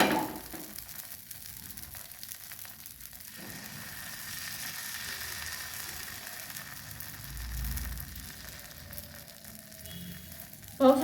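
Sorghum uttapam batter sizzles on a hot griddle as the pan is gently swirled, a steady close frying hiss that rises and falls slightly, with no voices over it.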